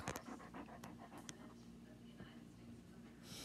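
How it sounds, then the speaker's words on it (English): A dog pants quickly and rhythmically close by, a soft breathy huffing over a faint low hum, with a brief scratchy noise near the end. "Dog."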